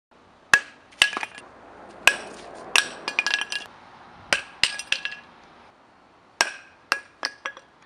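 Sharp metallic strikes from a hammer beating a Specialized carbon fiber bicycle crank, a dozen or so close, loud clanking impacts in irregular bursts with short pauses between them, no voices.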